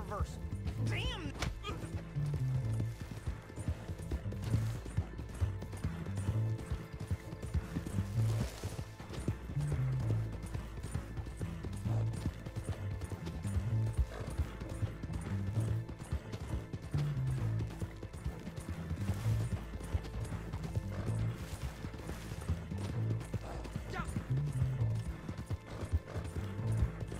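Horse hooves clip-clop at a steady trotting rhythm in Red Dead Online, repeating close and clear through the whole stretch over a low ambient bed, with occasional game sounds and no speech.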